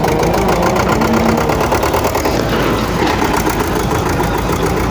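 A loaded tractor's diesel engine runs loud and close at a site where a Hitachi excavator is breaking a bridge, a steady rough rumble with rapid knocking pulses and no pauses.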